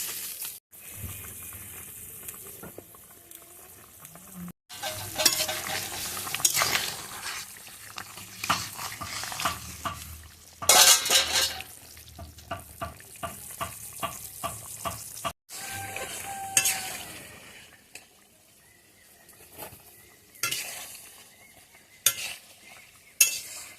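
Curry gravy bubbles and sizzles in a pan before fish goes in, with irregular stirring scrapes, spoon clinks and short pauses throughout.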